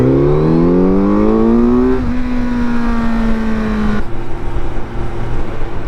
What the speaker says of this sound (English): The intake noise on this is fucking ridiculous.